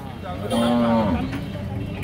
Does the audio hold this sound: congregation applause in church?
no